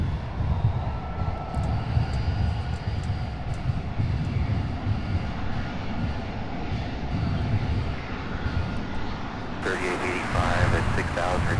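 UPS MD-11 cargo jet at Louisville SDF airport, a steady loud engine roar that holds throughout with no clear build or fade, and radio voices come in near the end.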